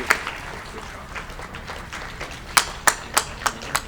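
A handful of sharp, separate hand claps from an audience at a county sports hall of fame induction dinner, coming near the end over a steady murmur of room noise, with faint talk underneath.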